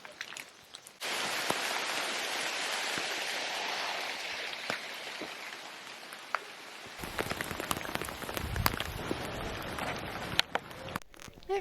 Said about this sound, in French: nous voilà sous une belle averse au milieu du site maya